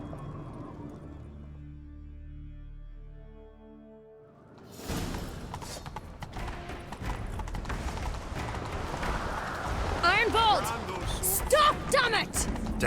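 Galloping horse hooves in the video game The Witcher 3 drum rapidly once a steady musical drone cuts off partway through, building into a loud, busy chase with voices calling out over the hoofbeats.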